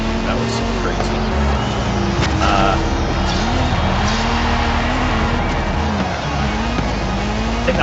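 A car drives through Mexican streets in the video game Forza Horizon 5, its engine droning with shifting pitch and occasional tire noise, loud and continuous.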